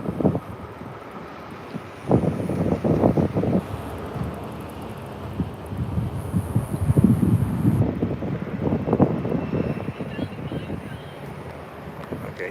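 Wind buffets the microphone outdoors, low rumbling gusts that swell and fade over several seconds, with a voice talking over them.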